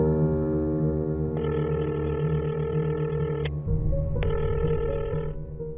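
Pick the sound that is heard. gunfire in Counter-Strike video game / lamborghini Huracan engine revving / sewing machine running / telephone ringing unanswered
telephone ringing unanswered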